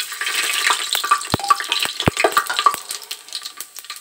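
Whole spices, a black cardamom, cloves, black peppercorns, bay leaves and cumin seeds, hit hot oil for matar pulao with a soft steady sizzle, punctuated by a few sharp clinks and taps of a utensil.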